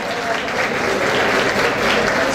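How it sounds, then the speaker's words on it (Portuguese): A crowd applauds a performer on stage at an evening show, loud sustained clapping that swells slightly and carries on throughout with no talk over it. "Sua menina Ellen, aplausos!"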